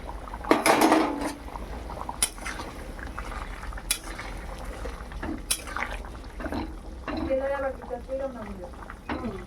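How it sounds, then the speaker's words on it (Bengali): Pangas fish pieces are added to boiling curry gravy in a pan, with clinks of utensil against pan and soft liquid stirring under speech. "ঝোলটা ফুটে উঠেছে, একবার মাছগুলো দিয়ে দেবো।"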